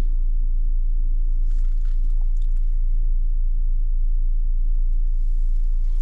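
A Jetour X90 Plus SUV on a test drive after a fault with its instrument cluster lights and speedometer gives a steady low cabin rumble of engine and road noise, with a few faint clicks and rattles.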